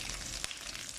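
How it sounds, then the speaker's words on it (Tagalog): Garlic sizzling in hot oil in a pan for beef with bell pepper, a steady bright hiss with one sharp crackle partway through, close and fairly quiet. "Ilagay ko na yung garlic."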